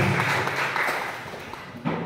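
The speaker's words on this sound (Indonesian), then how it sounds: "Tepuk tangan untuk teman kita Lorencia." Classroom applause for a student named Lorencia, a steady, fairly close wash of clapping from pupils that lasts throughout with a thump near the end.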